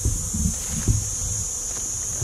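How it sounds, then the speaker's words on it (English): Honey bees buzz around hive boxes, a dense low droning hum with individual insects passing near the microphone, steady and close against faint outdoor background, no voices. "You can see, look at all the bees."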